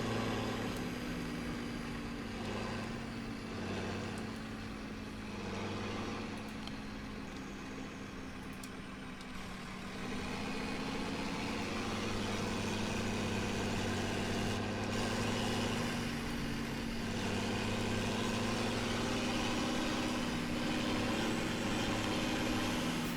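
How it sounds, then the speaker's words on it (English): A loud tractor engine in Farming Simulator 17 idles and runs steadily with a deep, heavy rumble and a constant drone, dipping slightly midway before rising again, with no talking. "This is a pretty loud tractor though"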